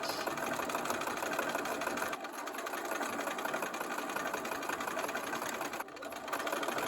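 A sewing machine runs steadily, stitching rows of crocheted granny squares together into a table topper, with a continuous close motor whir and a brief pause near the middle.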